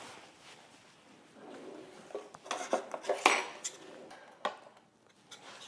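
A party salad being tossed in a bowl, with soft scraping and a run of clinking utensil taps against the dish, growing busier midway and fairly close, with no talk.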